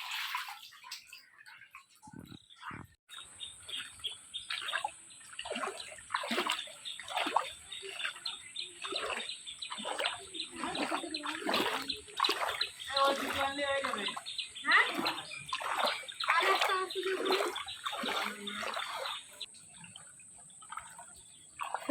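Floodwater rising inside a house splashes and trickles continuously, with a voice talking over the water for most of the time.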